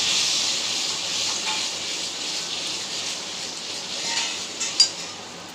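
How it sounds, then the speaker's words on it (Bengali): Spices, turmeric and salt sizzling in a hot pan while the masala for a Bengali fish curry is stir-fried, a steady bright hiss throughout with a faint utensil clink near the end. "এবার এটা ভালো করে কষে নিতে হবে"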